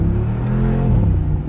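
A 2019 Mercedes-AMG G63 Edition 1 engine revs hard, its loud, deep exhaust roaring close by and shifting pitch as it accelerates.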